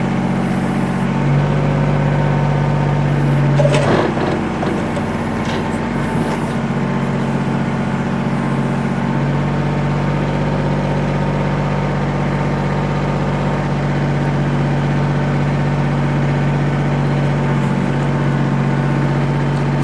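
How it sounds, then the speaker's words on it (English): 2013 Kubota L3800 compact tractor with 38 HP diesel engine and backhoe idling steadily, a loud, even low drone with a brief clatter partway through, close by and without talking. "I'm just basically idling this tractor to show you that everything there works"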